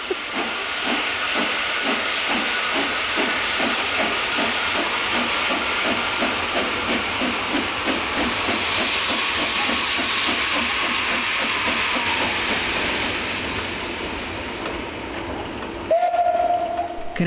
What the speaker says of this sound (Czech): Jízda vlakem, že jo, to je krásný.